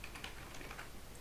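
Quick, quiet keystrokes on a computer keyboard entering a command at a Windows command prompt, a brief steady run of clicks with no talk.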